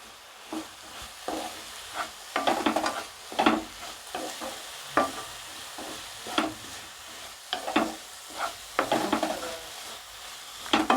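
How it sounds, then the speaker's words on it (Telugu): A thick pumpkin sweet with cardamom and saffron colour is stirred in a pan, giving a series of irregular scraping strokes and soft clatters over a low bubbling sizzle, close and fairly quiet, with no voices. "ఈ ప్లేస్లో బాగా కలుపుకోవాలి మనం ప్యాన్ కంటుకోకుండా"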